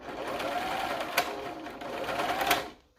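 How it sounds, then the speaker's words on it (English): A serger stitching through folded fabric seams while hemming, a steady close mechanical whir in two sustained runs with sharp ticks of the needle and a brief slowdown near the end. "a lot of times I run into problems trying to get it serged together"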